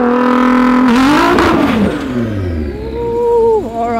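A modified car engine revs loud and close at a launch, holding a high strained whine that climbs, drops sharply, then rises again in a second surge.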